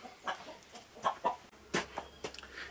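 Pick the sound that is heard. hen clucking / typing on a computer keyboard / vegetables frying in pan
hen clucking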